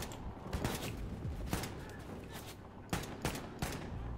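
Enemy gunfire in the video game Wolfenstein II: The New Colossus sounds as a series of sharp, fairly quiet shots and short bursts. The shots are spaced irregularly over a few seconds.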